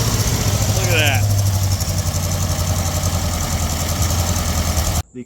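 The V8 engine of a 1957 Ford Fairlane 500 Skyliner, with a leaking carburetor and failing accelerator pump, fires and runs with a loud, close, uneven idle, a voice speaking over it before it cuts off abruptly.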